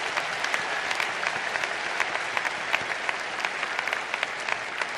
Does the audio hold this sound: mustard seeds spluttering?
no